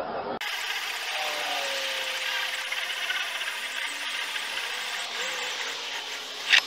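A hole saw grinds steadily through a wooden 2x4, a continuous rasping whir that holds for several seconds before a sharp scrape at the end.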